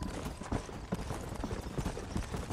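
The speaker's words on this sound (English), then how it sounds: "Look at these here horses." Horse hooves clip-clop in a steady, even rhythm in the video game Red Dead Redemption. The hoofbeats are close and continuous, with no talking over them.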